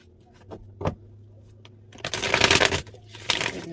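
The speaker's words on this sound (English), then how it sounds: "Shuffle one more time and let's see if we can get any more clarity." Tarot cards are shuffled up close. A few light taps and flicks come first, then a dense riffling burst and a shorter final flurry.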